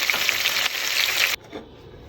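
Chicken frying in a pan over medium heat gives a steady, close hiss of sizzling that stops abruptly partway through, leaving near silence with a faint soft knock after.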